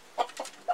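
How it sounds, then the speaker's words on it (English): A fighting rooster used in cockfights gives three short, close clucks, two near together and a third after a brief gap, with nothing else heard. "A rooster used in cockfights."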